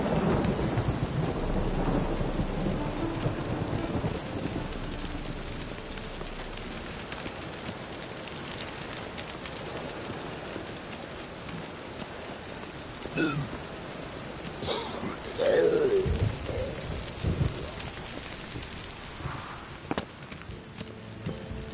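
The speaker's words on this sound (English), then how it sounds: "Rain keeps the rogues indoors." Rain and thunder in The Witcher 3: Wild Hunt on PS4, a steady wash of rainfall with deep rolling thunder swelling near the start, continuous and fairly loud, with a few brief sharper sounds and a faint voice later.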